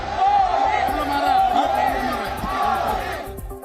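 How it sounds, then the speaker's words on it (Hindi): Large crowd at a political road show in Bengaluru chants a rhythmic two-beat slogan over and over, loud and close, with cheering and whoops mixed in. "रोड शो के दौरान भीड़ मोदी मोदी के नारे लगाती सुनाई पड़ी।"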